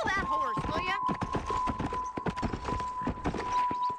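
Horse hooves clip-clop in a video game as an irregular run of close, crisp strikes, with a steady tone in the background and a voice talking over the start.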